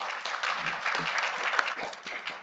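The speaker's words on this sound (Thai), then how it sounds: "ขอเสียงปรบมือด้วยค่ะ" Audience applause at a Thai panel discussion on citizen media, a dense, steady burst of many hands clapping together for a couple of seconds with no talk over it.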